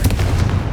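Confringo blasting spell cast in the video game Hogwarts Legacy: a single loud, booming burst with a heavy low rumble, close and dominant, lasting under a second.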